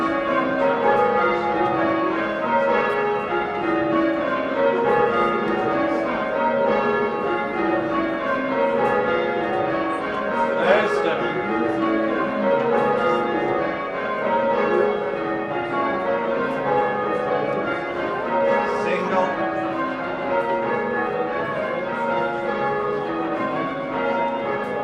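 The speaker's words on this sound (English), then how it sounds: "a group of experienced ringers will try out all the bells" The church bells of St Bartholomew's in Otford ring together under a team of ringers, a continuous, layered peal of overlapping bell tones at steady volume from start to finish.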